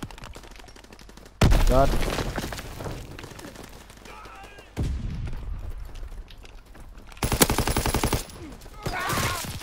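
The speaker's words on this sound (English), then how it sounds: "A snipe followed by loads of bullets from an assault rifle?" In Call of Duty WWII multiplayer on the Ardennes Forest map, a single loud sniper shot cracks out, followed later by rapid bursts of assault rifle fire, with someone talking and exclaiming between the shots.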